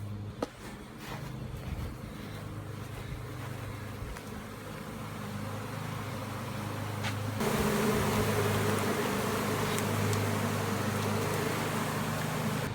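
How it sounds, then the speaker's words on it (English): A large honey bee swarm hums in a dense, continuous buzz, steady at first and then swelling noticeably louder about halfway through, close by with faint background noise and no speech. "I got a huge swarm"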